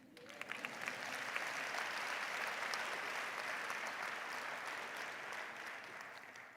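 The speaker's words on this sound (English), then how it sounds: "I see you want to applaud" Graduation audience applauding in a large hall, a few scattered claps building quickly into a broad sustained wash of clapping that stays steady and fairly distant, tapering slightly at the end.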